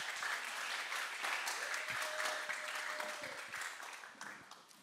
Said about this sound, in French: Est-ce que vous pouvez applaudir pour moi?